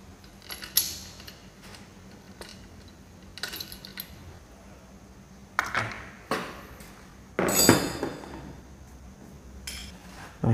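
Metal tools clink and knock against parts of a Toyota 1NR engine on a stand as its timing pulley is removed, with scattered sharp metallic taps and clatters amid quiet pauses.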